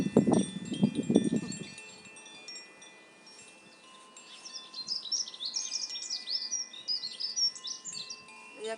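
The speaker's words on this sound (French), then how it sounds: "Et avec les petits oiseaux aussi." Small birds chirp and twitter outdoors, a quiet, busy chatter of high tweets off in the distance, with a brief low hum of voice or tone at the start.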